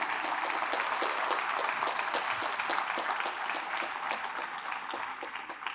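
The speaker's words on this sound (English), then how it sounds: "How about giving them one big round of applause one more time?" A firefighters' awards banquet audience claps for the nominees and award recipients, giving dense, sustained applause from a large room that holds steady throughout and tapers only slightly at the very end.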